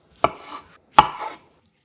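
Imitation crab sticks being cut into 4 cm pieces with a knife on a cutting board: two sharp chops about three-quarters of a second apart, each followed by a brief scraping rustle, close and clear with no talking.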